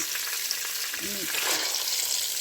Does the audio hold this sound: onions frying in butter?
yes